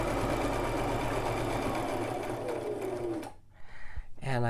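A Brother LX3817 sewing machine stitches a woven blind hem, its motor whirring steadily and loudly close by, then stopping abruptly, followed by a few faint handling sounds.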